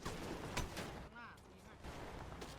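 Gunfire in the video game GTA V: sharp, loud shots burst out amid a dense, busy game soundscape, with voices faintly mixed in.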